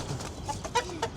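Short, soft clucks from a hen near a duck and chicken coop during egg collection, a few brief calls spread over a second amid a quiet background.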